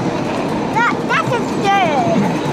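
Steady rumbling of a Great Western Railway train ride fills the background while people talk over it in short, lively exchanges.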